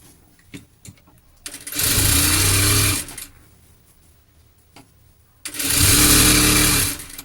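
A sewing machine stitches a hook onto a top in two loud, steady whirring runs of about one and two seconds, separated by a quieter pause with light handling clicks.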